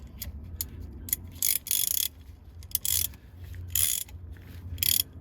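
A tap from a Gear Wrench 141-piece tap and die set is turned by hand to cut threads, giving close, rhythmic ratcheting clicks in short bursts with brief pauses between turns.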